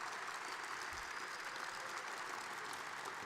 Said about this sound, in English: how about one big collective round of applause for all of our inductees